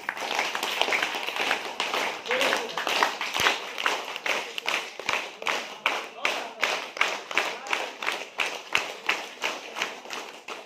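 Participants at a self-defence workshop for mothers clap their hands in a steady, regular rhythm of sharp claps, moderately loud and repeating for about ten seconds, with a voice faintly present in the background.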